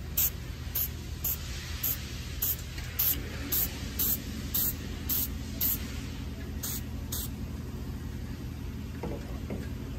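An aerosol can sprays light coats onto a valve cover gasket in a series of short, regular hissing bursts, about a dozen puffs spaced roughly half a second apart over a low background hum.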